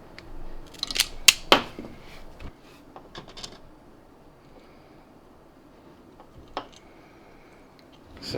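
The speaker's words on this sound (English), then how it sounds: "I hate cutting perfectly good harnesses, but it is what it is." Snips cut through a car fuel pump wiring harness for an E46 M3 surge tank: several close, sharp clipping snaps in a quick cluster, then sparse single cuts and handling noises in a quiet space.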